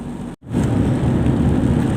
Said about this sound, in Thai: ถ้า ฝนตกอยู่ประมาณนี้นะครับ คือไม่แรงมากกว่านี้